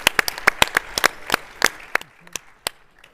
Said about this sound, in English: one more round of applause for Unlisted